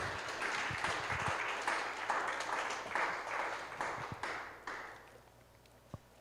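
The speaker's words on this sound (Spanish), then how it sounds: "Dale un aplauso al Señor" A church congregation gives a round of applause, with clapping that swells, tapers off unevenly and ends with a few scattered claps and a single thump.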